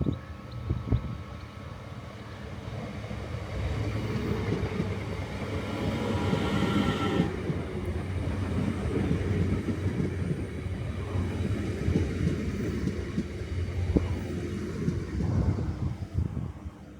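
Train arriving or passing at Bayside railway station on the Howth Branch, a steady low rumble of rail noise building and holding for the whole stretch, fairly loud with no talking.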